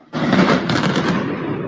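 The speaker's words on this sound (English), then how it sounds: "You can even hear an explosion." An explosion heard during a nighttime military Black Hawk helicopter exercise over downtown Los Angeles comes as a sudden loud burst that sets off a dense, rumbling roar of crackling blasts lasting over a second.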